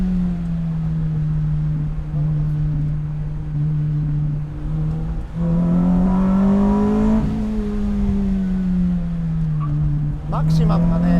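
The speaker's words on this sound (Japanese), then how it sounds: "エンジンがね2リッターのチューニングエンジンが乗ってるんですけどね" A Lotus Elise R Special with a tuned 2-litre engine drones loudly from inside the cabin, its pitch rising and falling as it revs and eases off, with people talking over it.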